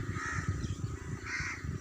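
Crows caw repeatedly in harsh, rhythmic bursts on a hot summer day, the calls steady and fairly close with no talking.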